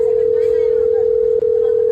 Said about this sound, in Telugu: అరే పవన్ కి కాల్ చేయి రామ్